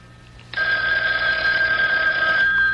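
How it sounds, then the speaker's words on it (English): Loud, steady ringing of an old telephone bell in a radio drama sound effect, starting abruptly and continuing unbroken, close and alone without any talking. "Phone from Mother."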